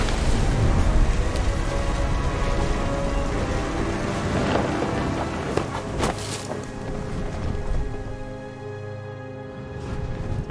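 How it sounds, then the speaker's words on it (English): Steady heavy rain in the game What Remains of Edith Finch, with a loud, close crack of thunder about midway and rumbling thunder building under the continuous downpour. "The thunder sounded much too close and full of angry power."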